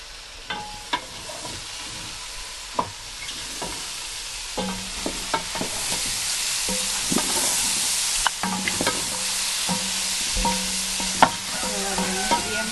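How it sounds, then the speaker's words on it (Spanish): A spoon stirs chicken and vegetables in a hot pot for Paraguayan vori vori, scraping and clacking in irregular strokes over a steady frying sizzle, close and without talk. "Revolvemos bien todo con la verdura."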